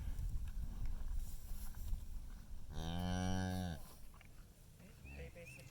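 A cow lets out a single loud, drawn-out moo near a newborn calf among other cattle, about a second long, set against steady outdoor background noise.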